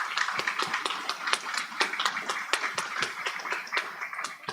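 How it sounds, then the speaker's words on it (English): Applause from the audience at a school board of education meeting, a steady stream of clapping hands lasting several seconds, moderately loud and fairly close, with no talk over it. "everyone deserves a round of applause"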